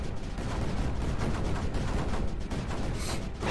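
Cannons firing in the Creeper World 4 strategy game, rendered as a steady, loud wall of overlapping blasts and rumbles that carries on without a break and has no talking over it.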